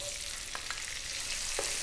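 Chopped onion sizzling with cumin seeds in a pan over above-medium heat for a vegan tomato curry, giving a steady dense frying hiss with a few faint stirring taps, close and continuous.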